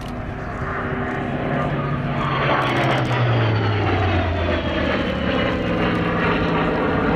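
A Hawker Sea Fury's 2,500 horsepower Bristol Centaurus radial engine drones steadily and smoothly as the plane flies past at an airshow, the pitch shifting slightly as it moves, loud throughout.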